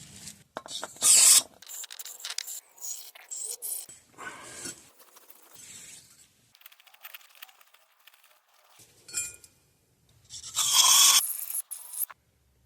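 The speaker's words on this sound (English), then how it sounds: "this probably isn't the best brush to clean out those slide pins" A brush scrubbing the brake caliper slide pin bores of a 1998 Toyota Camry gives close, bursty scraping and rasping strokes with pauses between them, loudest in a few vigorous bursts.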